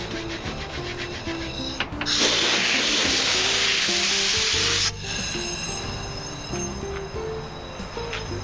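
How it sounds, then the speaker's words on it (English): An air compressor runs with a steady, droning motor hum that has a grinding, rubbing edge, and a loud, close blast of hissing air bursts out for a few seconds midway, with no talk. "At some point the compressor is going to kick on,"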